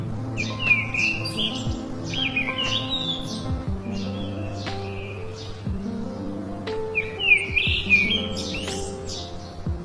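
Birds chirp and tweet repeatedly in short bright bursts over a layered background of soft tones and music, with several clusters of calls spread across the stretch and no talking.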